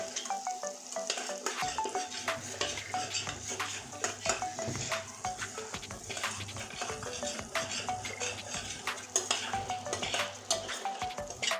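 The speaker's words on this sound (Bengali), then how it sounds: "আর হলুদ দিয়ে দিচ্ছি সুন্দর করে কষিয়ে নেব" Chopped chilli and onion sautéing in a pan with salt and turmeric for a giant taro dish: a steady close sizzle with frequent scraping and clinking strokes of a spatula against the pan, continuous and alone.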